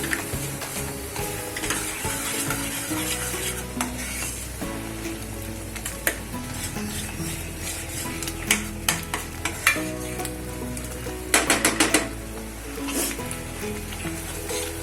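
Spiced masala for a white peas usal is stirred and sautéed in a pot, with a steady sizzle and repeated sharp scrapes and clinks of the spoon against the metal, heard over soft background music.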